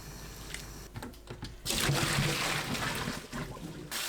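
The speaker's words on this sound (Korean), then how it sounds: "찬물에 두세 번 헹궈내세요." Blanched young napa cabbage is rinsed in cold water, with close splashing and sloshing that swells into a steady rush of water and then eases off.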